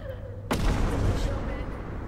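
A bomb goes off in the game Content Warning with one sudden, loud, sharp blast that decays into a rumbling roar over the next couple of seconds.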